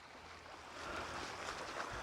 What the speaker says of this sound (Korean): 물이 마치 봄처럼 이렇게 얼어있지 않고 계속 흐르고 있습니다.